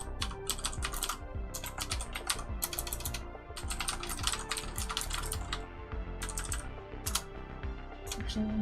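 Rapid, continuous typing on a computer keyboard, close and crisp, with irregular bursts of keystrokes and no talk over it.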